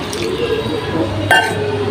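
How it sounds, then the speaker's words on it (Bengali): A little more water is splashed into a cooking pot of sautéed rice, a short liquid pour with a glassy clink near the end, close and fairly loud over a low kitchen hum. "আর একটু লাগবে পানি,"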